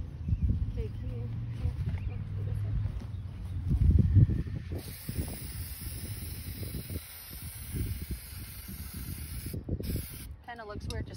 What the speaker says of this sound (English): Kind of looks weird just spray painting a headstone.